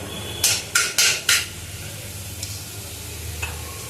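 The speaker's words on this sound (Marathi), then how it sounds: "तेल गरम झालेलं आहे। जिरं घालून घेऊया, एक अर्धा चमचा जिरं" Half a spoon of cumin seeds hits two to three ladles of hot oil, giving four quick crackling sizzle bursts close by, then settling into a quieter hiss with only faint occasional pops.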